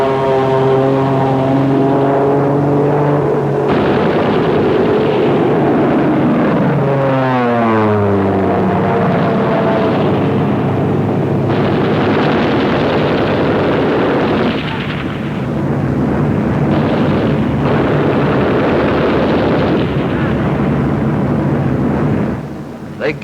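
A-36 dive bomber aircraft strafing a German pillbox: a loud propeller engine roar dives and pitches down, followed by heavy bursts of gunfire and explosions, with narration-like voices mixed in over the din.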